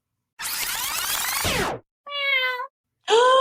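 Pet cat Kona gives two short, close meows after a burst of rustling movement, with a pause between the calls and no talk over them.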